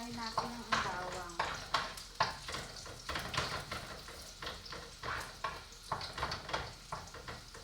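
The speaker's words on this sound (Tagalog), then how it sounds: "papulahin natin ang bawang" Garlic sizzling in a pan while a utensil scrapes and stirs it, repeated clacks and scrapes over a steady fry, close with no talk.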